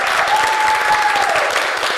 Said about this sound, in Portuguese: palmas pra todo mundo